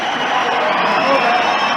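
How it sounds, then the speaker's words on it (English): Ice hockey crowd at a 1983 USA Olympic team versus USSR game roars and cheers wildly after a late go-ahead goal, a dense, sustained arena din with whoops rising over the steady wash. "This crowd is just going wild."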